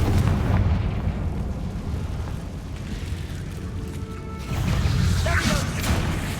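A fire-type explosion spell goes off in the video game Hogwarts Legacy as a loud, close blast, followed by rumbling debris and a second burst of crackling impact near the end. There is no speech over it.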